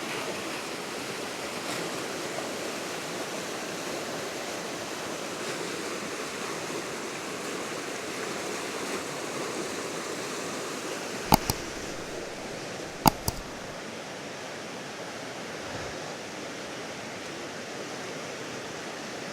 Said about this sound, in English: there's lots of water flowing in